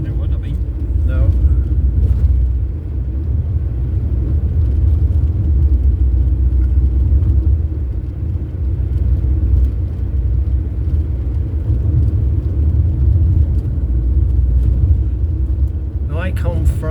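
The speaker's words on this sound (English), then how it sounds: "There's some cars coming now." Cars roll past along a rural road racing circuit at Armoy, Northern Ireland, during a classic car show, a steady loud engine rumble filling the whole stretch with a few sharper bursts near the start and end.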